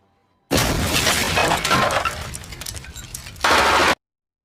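Rapid gunfire from a film scene in which soldier brothers shoot at a man, with breaking glass and shattering mixed in, loud and continuous for about three seconds, then a sharper burst near the end before cutting off.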